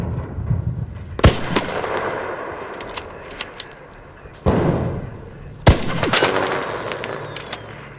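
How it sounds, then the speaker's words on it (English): Gunfire in the video game ARC Raiders: several sharp, loud shots, around 1, 4.5 and 5.6 seconds in, each trailing into a long echoing tail that rolls away into the distance, with scattered softer reports in between. "Hearing like the echoing gunshots in the distance"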